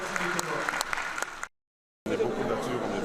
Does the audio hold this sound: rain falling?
no